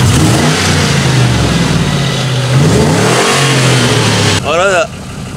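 A car engine that sat unused for a month cranks over, catches and revs loudly, the rough note rising and falling before a voice breaks in at the end.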